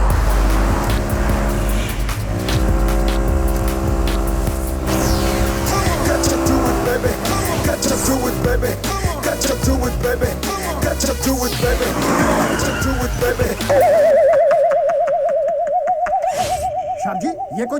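A car is driven recklessly in a comedy film: a loud roar of engine and tyres builds, then a sustained, wavering tyre squeal of skidding rings out near the end.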